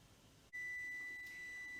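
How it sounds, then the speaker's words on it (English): A kitchen timer goes off while carrots are being blanched, giving a steady high electronic tone that starts abruptly and holds unbroken over a low background hum. "My timer's gone off."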